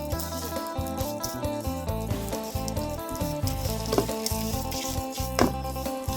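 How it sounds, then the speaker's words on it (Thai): Pork belly stir-fries with curry paste in a little oil, a soft steady sizzle with scraping spatula clatter under looping background music. "จะผัดสามชั้นไปพร้อมกับพริกแกงเลย"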